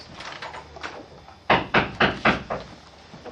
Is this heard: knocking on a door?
yes